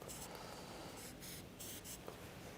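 A marker squeaks and scratches across a board while a magnifying glass is being drawn, with several short strokes close by and no talking.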